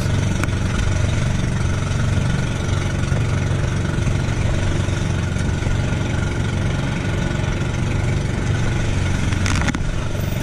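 Fishing boat engine running at sea, a loud steady low drone and rumble with a constant hum, continuous and close for the whole stretch, with wind noise and no talk.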